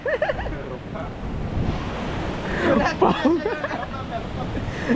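Water gushing at Baba Waterfalls in Maharashtra during the monsoon: a steady, loud broadband rush of falling water, with people talking over it throughout.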